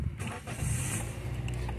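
A car engine revs as the driver presses the accelerator fully to the floor, a loud, rising low rumble that swells midway and holds, alone without talk.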